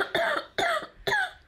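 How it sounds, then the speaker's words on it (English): Three sharp, close coughs in quick succession from a person on a live podcast, each a loud burst that fades briefly before the next. "Can't edit out the coughs when it's live."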